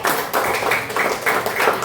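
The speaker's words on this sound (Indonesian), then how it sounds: "Beri tepuk tangan buat kita hari ini." Schoolchildren in a classroom clap together in a steady rhythmic pattern, with bursts of hand claps coming close and moderately loud in regular beats, no voices over them.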